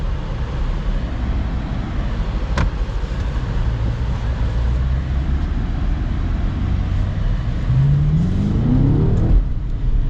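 A 2025 BMW X5 M Competition surges forward under hard acceleration, its engine note steady and loud for most of the stretch, then rising sharply in pitch as revs climb near the end, with a brief sharp click early on.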